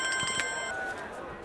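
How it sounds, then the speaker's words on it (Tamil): A telephone rings close by in a comedy scene, a bright electronic tone with steady harmonic lines that fades after about a second, with a faint voice in the background. "மச்சான் ஃபோன் அடிக்குதுங்க."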